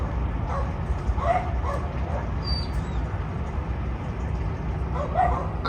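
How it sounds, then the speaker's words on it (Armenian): Several agitated dogs bark and yip a few times at a distance, over a constant background of wind and rain noise. "Շները մնացին ջղային ինչ-որ մի տեսակ։"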